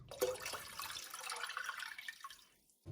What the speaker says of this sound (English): Next, we're going to add 8 cups of water